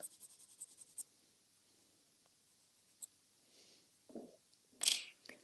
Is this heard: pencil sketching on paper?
yes